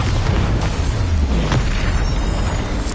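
A Bombarda spell explosion from Hogwarts Legacy on PS5: a dense, rumbling blast with a heavy low-end boom that swells and churns throughout, loud and close, with no talking over it.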